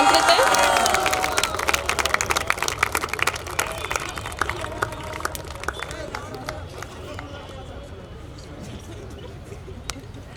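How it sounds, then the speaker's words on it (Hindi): Audience applause and cheering from a crowd at an award ceremony for a charity foundation event, loud dense clapping at first that gradually thins and fades, with scattered claps continuing to the end. "तालियों की गूंज रुकनी नहीं चाहिए।"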